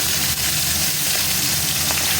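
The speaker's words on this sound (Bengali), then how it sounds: "কড়াইতে তেল দিয়ে তারপরে এই মোরলা মাছগুলো দেওয়া হয়েছে" Loud, close sizzling of small morla fish frying in a pan of oil, a continuous bubbling crackle with no voices.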